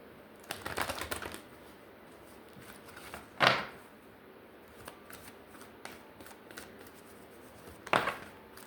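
Tarot cards being shuffled by hand: riffling bursts near the start and two sharp, louder shuffles spaced a few seconds apart, with soft handling between, close and quiet, no talking.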